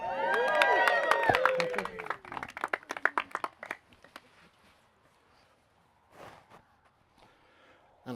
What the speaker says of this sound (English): And everyone cheer.